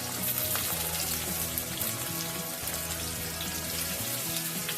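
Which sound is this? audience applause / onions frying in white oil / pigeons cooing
onions frying in white oil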